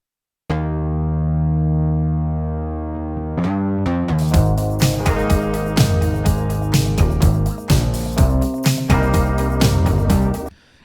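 Layered synth basses and electric bass from a pop song production: a long held bass tone, then a busy rhythmic bass line with sharp attacks, loud and up front, with no talk.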